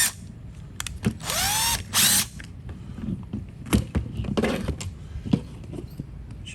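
Cordless power tool backing bolts out of the pull starter on a Traxxas nitro rally RC car, two short close whirring bursts followed by scattered clicks, taps and handling noises.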